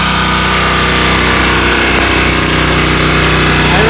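A leaking pressure-washer pump running loud and steady while mud is cleaned off a quad, a constant droning engine roar that fills the whole span without a break.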